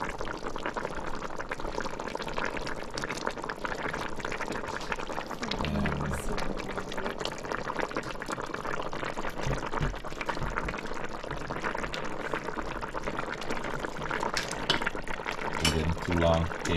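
Fish stew with gravy simmers in a pot in a home kitchen, a steady bubbling hiss that runs throughout with a faint low rumble underneath.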